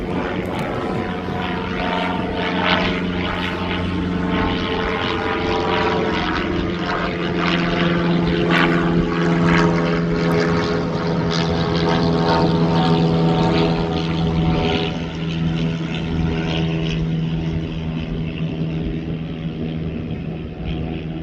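A propeller aircraft taxis at East Midlands Airport, heading toward the DHL cargo area, its engine a steady, loud, close droning hum that holds for the whole stretch with no voices.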